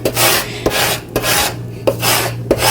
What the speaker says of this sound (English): now we're going to flip it over and take our scraper tool and